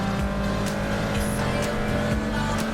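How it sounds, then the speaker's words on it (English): A green, well-prepared BMW Class A race car blasts past at Silverstone during an International Roadsports race, its loud engine roar and whooshing pass steady and close, with a higher droning engine tone running underneath throughout. "It's John Barrett's green, beautifully prepared BMW. Blasting past, Class A car"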